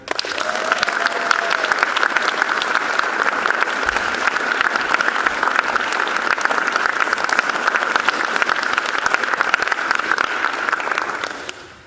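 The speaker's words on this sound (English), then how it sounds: "these amazing young artists deserve another round of applause from you," Sustained audience applause after a youth arts performance of Frankenstein, dense, even clapping from a full house lasting about twelve seconds before fading at the end.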